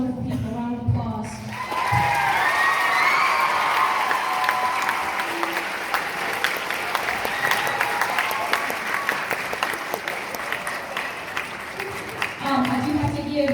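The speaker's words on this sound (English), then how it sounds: "let's give all those wonderful people a round of applause" Audience at a school band concert breaks into sustained applause, a dense wash of clapping with some cheering that swells after a brief moment of speech and carries on for several seconds before fading as a voice returns.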